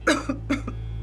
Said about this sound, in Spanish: Cuando le dan sus ataques de tos